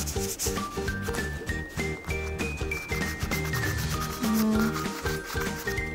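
Charcoal rubbed across paper by hand for a charcoal collage drawing of a dog: a soft, continuous scraping texture beneath louder melodic background music, with no talking.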